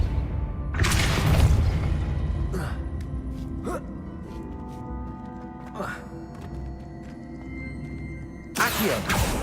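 In the video game Hogwarts Legacy, Depulso spell impacts land as heavy booming bursts, one near the start and another at the end, with lighter clattering hits scattered between over a low rumbling game ambience.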